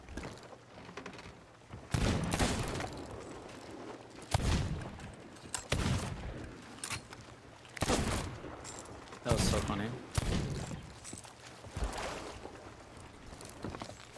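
Repeated gunfire from double-wielded guns in the Sea of Thieves pirate video game, about eight loud irregular blasts spread across the span, with players talking between and over the shots.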